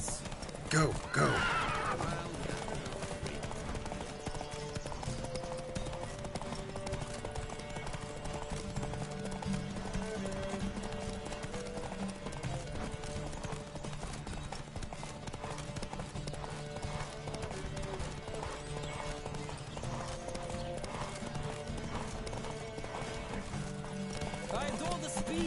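Galloping horse hooves in a Witcher 3 horse race, a continuous rapid clip-clop held for the whole stretch with an early whinny and game ambience beneath.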